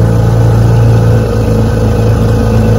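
A 1959 Johnson 5.5 HP outboard motor runs steadily and loudly up close, a continuous mid-pitched engine drone with no pause, no voices over it.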